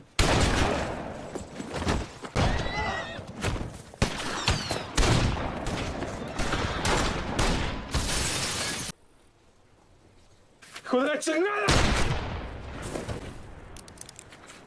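A cowboy film shootout in a Billy the Kid story brings dense, rapid volleys of gunfire mixed with shattering and breaking sounds, a brief quiet gap, then more loud shooting.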